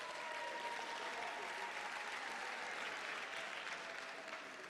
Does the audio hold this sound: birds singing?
no